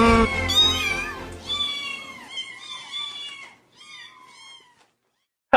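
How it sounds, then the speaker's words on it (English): Several cats meow in overlapping, rising and falling calls, loud at first and thinning out over a few seconds, with a sharp burst at the very end. "Just cats. Lots of cats."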